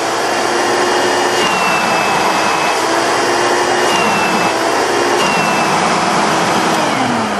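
A Dial-a-Matic vacuum cleaner runs close by with a loud, constant motor roar and rushing airflow. The sound stays unbroken throughout, with no voices.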